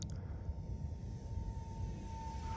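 A fully 3D printed Concorde model airplane comes in to land with a steady, moderately loud low rumbling drone and a faint high whine above it, lasting the whole short stretch.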